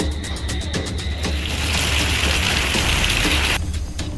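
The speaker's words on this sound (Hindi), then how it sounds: "झांसी में लगातार भारी बारिश हो रही है।" Heavy, steady rain pours down in Jhansi, Uttar Pradesh, a dense continuous hiss close by that swells in the middle, with no voices.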